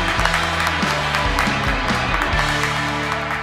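Studio audience applauding a cuarteto band on a radio show, a dense, sustained burst of clapping close by with low tonal sounds underneath, gradually easing off.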